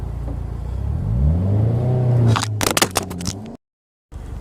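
A 2016 Subaru WRX with a Cobb Stage 2+ tune accelerates hard, its engine note rising steadily through the revs, then dissolves into clattering, scraping handling noises before a sudden cut to silence.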